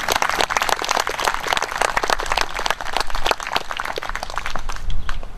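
Audience at an outdoor Memorial Day ceremony clapping continuously, a dense burst of applause from a sizeable crowd that holds steady throughout.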